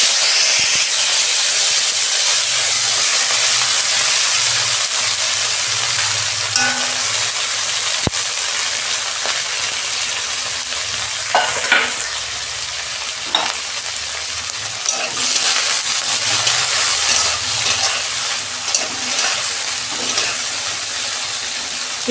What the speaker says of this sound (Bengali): মাছটা আমি ভেজে নেব।